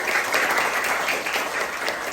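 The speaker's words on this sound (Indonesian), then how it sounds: "Tepuk tangan buat kita semua." A crowd claps together in steady, dense applause, loud and continuous throughout with no voices standing out.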